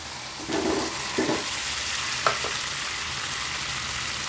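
Hog plums (amra) dropped into hot oil for a village-style curry, giving a steady broadband sizzle with a few brief louder bursts as the fruit goes in and is moved about.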